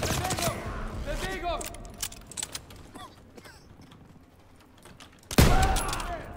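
Gunfire in the Call of Duty WWII D-Day campaign: bursts of rapid shots at the start and a loud blast near the end, with sparser distant shots and a voice between.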